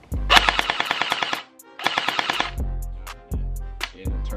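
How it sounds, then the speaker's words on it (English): A gel blaster dry fired with no gel balls loaded, giving two long fast bursts of mechanical clatter separated by a pause, then a few single clicks, close and loud with no talking. "And I'm finna dry fire it right quick."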